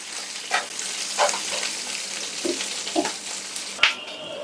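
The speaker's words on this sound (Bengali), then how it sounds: "মাছগুলা ভাজা হয়ে গেছে" Fish fry in a pan with a continuous hiss and crackle, broken by a few louder spatters and clinks of a turner spaced irregularly, heard up close with no talking.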